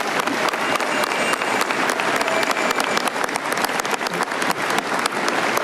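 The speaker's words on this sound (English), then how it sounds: "Let's give them a huge round of applause." Dense, sustained applause fills a large hall at the 2014 UNITE HERE union convention, many hands clapping at once in a loud, even roar with no break.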